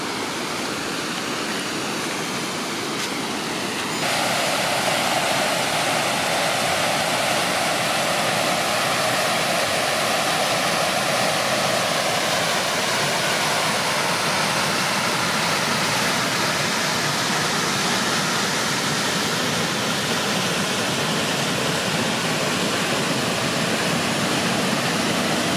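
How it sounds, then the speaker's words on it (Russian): Water pours over an earthen dam at the overflowing Toropovskoye reservoir near Lesnoye Lake, a steady, loud broadband rush that thickens after the first few seconds and continues unbroken with no voices. "И мы видим, что продолжается сброс воды, но уже, конечно, он не такой мощный, как"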